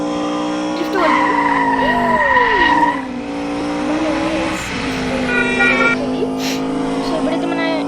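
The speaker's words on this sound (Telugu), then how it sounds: "సో ఈ పోర్ష్ అయితే చాలా బాగా స్పీడ్ వెళ్తుంది. చూసుకోవచ్చు మీరు ఎంత స్పీడ్ వెళ్తుంది. డ్రిఫ్ట్ వెళ్తుంది." A Porsche drifting in an Indian GTA-style video game, with tyres squealing and skidding in long sliding bursts over a steady engine drone, while a person talks over the game sound throughout.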